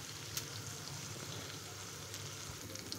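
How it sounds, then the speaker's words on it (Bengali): Onion and garlic fry in a pan, a soft, steady sizzle with faint crackles and a light pop near the start, quiet and close with no voices. "আমার পেঁয়াজ রসুনটা ভেজে নেওয়া হয়ে গেছে"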